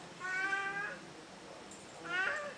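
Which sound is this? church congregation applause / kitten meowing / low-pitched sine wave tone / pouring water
kitten meowing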